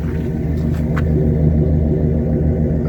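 A 2004/2005 Dodge Ram 1-ton truck engine with dual exhaust runs close by, a loud, steady, deep rumble that holds even throughout, with no voices.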